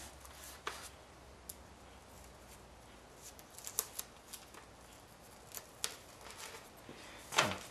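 Tape being pulled and pressed down on a fiberglass mast part, quiet close crinkles and a few sharp ticks and tears spread irregularly, ending in a louder rip, no talking.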